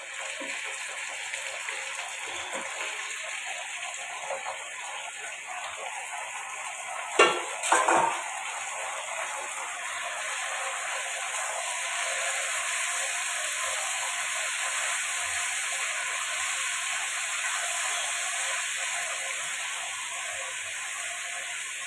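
Chicken frying in a pan with sautéed onion for chilli chicken, a continuous bright sizzle close by with a brief clatter of utensil against the pan partway through.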